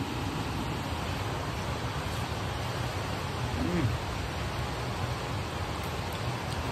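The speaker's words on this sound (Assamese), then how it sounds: "ইমান বৰষুণ দি আছে জানা বৰষুণ দিয়ে আছে ননষ্টপ" Heavy rain falls steadily as a constant dense hiss with no letup, with no clear speech over it.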